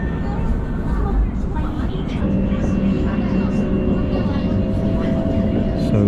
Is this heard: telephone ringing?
no